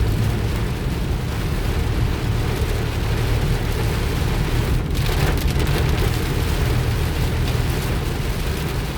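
Heavy rain drums steadily and loudly on a moving car in traffic, a dense continuous wash of droplets over a low road and engine rumble, with no voices.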